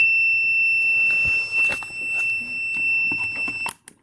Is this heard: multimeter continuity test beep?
yes